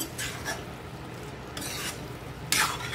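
Paneer being stirred gently in a pan for chilli paneer, a few soft scraping strokes of a utensil over a low steady sizzle, with a louder scrape near the end.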